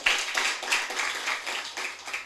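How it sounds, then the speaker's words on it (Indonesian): Applause from a church congregation during a worship service, brief, fairly soft rhythmic clapping of many hands with a faint low hum underneath. "Beri tepuk tangan dulu buat Tuhan Yesus kita."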